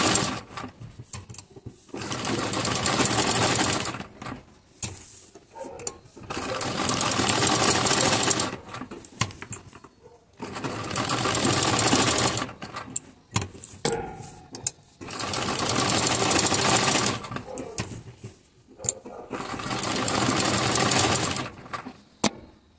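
Sewing machine stitching a zigzag design on fabric, running in four long loud bursts of steady mechanical whirring separated by short pauses, with no talking.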